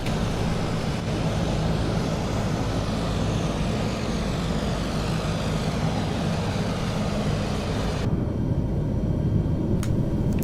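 Engines of a C-130 Hercules in a flight simulator game: a steady, loud broadband drone with a low propeller rumble runs unbroken, with a few faint clicks near the end.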